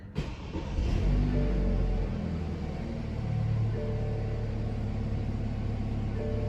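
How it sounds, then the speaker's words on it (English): A BMW F30 engine turns over and catches, settling into a steady low rumbling idle that stays loud and even for several seconds, with no talking. "Let's give the car a start"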